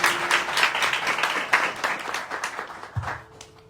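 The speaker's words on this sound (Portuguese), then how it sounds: "vamos aplaudir a palavra de Deus." A church congregation applauds after a scripture reading, a brief burst of crowd clapping that fades out over a few seconds, with a low voice entering at the end.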